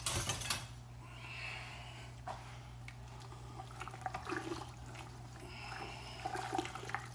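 Leftover turkey soup being stirred in a large pot makes soft, quiet liquid sloshing with occasional scrapes and knocks of a utensil against the metal.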